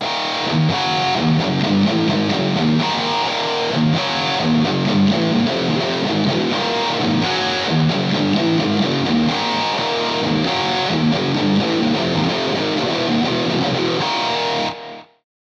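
A heavy distorted electric guitar riff alternating 7/4 and 9/4 sections, played loud and continuously, repeating its pattern before stopping abruptly.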